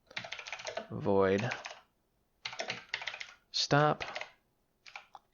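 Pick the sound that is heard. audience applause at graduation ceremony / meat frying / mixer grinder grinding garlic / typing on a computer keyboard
typing on a computer keyboard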